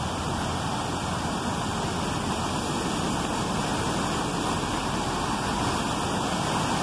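Steady, dense rush of water pouring over a river dam, a continuous broadband roar with no pauses, close and loud throughout.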